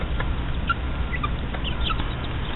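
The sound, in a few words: chickens, hen and rooster clucking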